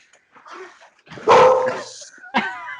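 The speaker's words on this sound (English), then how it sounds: "dog back there" A dog barks in the background, giving one sharp bark followed by a higher, whining yip a moment later.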